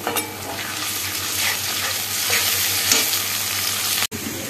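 Spice masala stir-fried in a pan with a little hot water, a continuous close sizzle and frying hiss with scraping stirs, steady and loud throughout, briefly cut off near the end.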